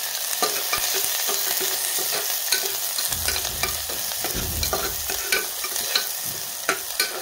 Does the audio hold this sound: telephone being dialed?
no